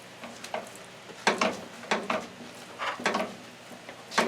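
Ground beef cooking with sofrito in a pan for cheesy beef empanadas, heard as scraping stirs and bursts of sizzle recurring every second or so at close range, with no talk.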